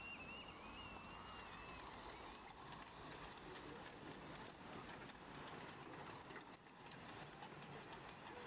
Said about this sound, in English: Faster, you stupid loco.